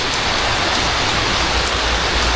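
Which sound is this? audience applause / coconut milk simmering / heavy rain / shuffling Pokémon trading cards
heavy rain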